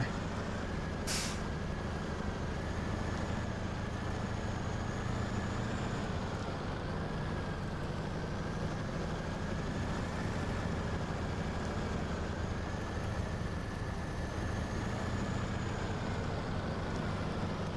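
Heavy truck in the off-road game SnowRunner, a steady loud engine drone throughout with one sharp short air brake hiss near the start, no voices.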